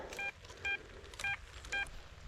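An XP Deus metal detector gives a signal of four short, evenly spaced electronic beeps, clear and near over a soft outdoor background.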